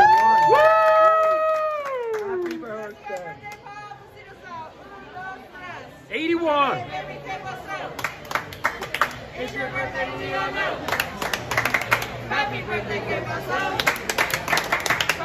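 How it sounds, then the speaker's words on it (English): Crowd at a restaurant birthday celebration for a 21st birthday breaks into scattered clapping and cheering, building toward the end amid lively chatter and background music. "Can we give them a big round of applause?"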